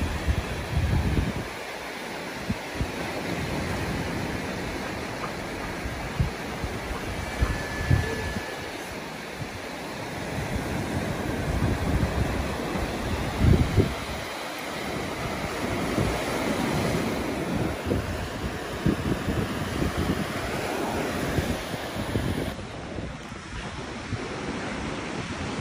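Sea waves washing onto a beach in Bulgaria, a continuous broadband surf roar with periodic swells and breaking surges, mixed with wind buffeting the microphone, no talk.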